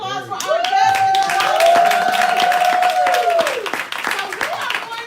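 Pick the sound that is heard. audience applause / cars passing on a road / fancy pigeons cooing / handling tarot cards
audience applause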